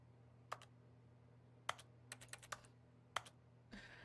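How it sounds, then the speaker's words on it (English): Keyboard typing effect from The Stanley Parable: Ultra Deluxe video game, several sparse, crisp key clicks spread irregularly over a low steady hum, ending with a brief shuffling noise. "Everything I touch sounds like a keyboard."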